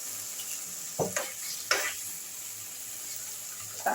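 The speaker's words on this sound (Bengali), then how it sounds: "একদম গ্যাসের ফ্লেমটা লো করে রেখেছি যখন এই দুটো একটু নাড়াচাড়া হয়ে গেল" Vegetables with a little dark soy sauce stirred in a pan over a low gas flame, for soya chilli: a few brief scraping strokes over a faint steady sizzle, close and fairly quiet, no talking.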